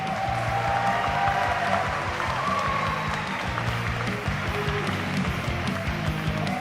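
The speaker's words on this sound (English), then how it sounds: "Let's get a last round of applause for them." Crowd applause and cheering at an MMA and kickboxing event in Patong after a five-round fight, a steady roar of clapping and voices under a low, booming arena sound system.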